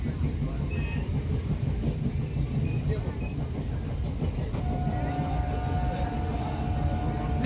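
A Santragachi–Digha local passenger train rolls along at speed, a loud steady rumble of wheels on rail with rhythmic clattering, heard from inside a carriage, with a long tonal squeal emerging near the end.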